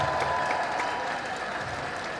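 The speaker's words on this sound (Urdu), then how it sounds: "جناب شاہ صاحب کے لیے بہت بھرپور تالیاں جناب" An audience in Quetta, Balochistan, breaks into steady applause for Shah Sahib at a comedy event, a dense, even clapping that fills the whole stretch, fading slightly toward the end.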